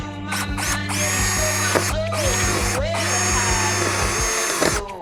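A power drill bores holes for mounting a sailboat winch, whirring loudly in repeated bursts that rise and fall as it spins up and slows, with a steady hum beneath and no clear talk.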